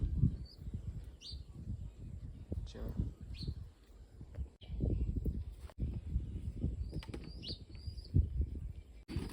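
Soft coos and brief calls from a fancy pigeon come and go over a low, rumbling background with some talking.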